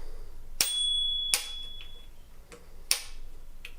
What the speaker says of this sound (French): Ici on a notre petite sonnette sur la gauche